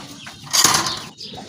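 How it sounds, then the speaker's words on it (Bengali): Golla pigeons kept for sale give a short, close burst of wing flapping that peaks and fades within about a second, with faint soft cooing around it. "আরেক জোড়া গোল্লা কবুতর"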